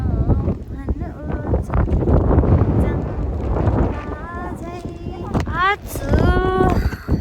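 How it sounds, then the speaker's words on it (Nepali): Strong cold wind gusts and buffets close to the microphone as a person speaks over the roar. "हावा एकदम चिसो चलिरहेको छ"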